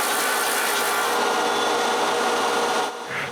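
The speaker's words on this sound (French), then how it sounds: "Je sable jusqu'à la marque la mèche de toupie a laissée, et je vérifie dans le trou qui est coupé dans le contreplaqué." An electric sander grinds against plywood pieces in one loud, continuous rough hiss, held close and steady. It eases off slightly just before the end.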